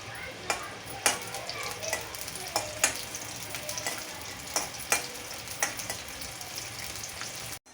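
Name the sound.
cashews and almonds frying in ghee in a pan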